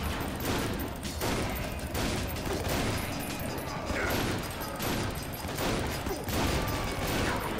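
The bone gun fires in the first-person shooter Painkiller: Redemption, a dense, continuous barrage of rapid shots and impacts that stays loud and near throughout.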